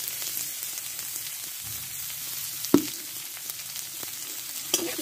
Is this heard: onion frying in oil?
yes